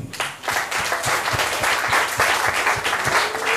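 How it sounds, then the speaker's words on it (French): An audience applauds in tribute to a late singer, a steady, fairly loud wash of clapping with a few sharper low thumps, sustained throughout without speech. "On peut l'applaudir s'il vous plaît."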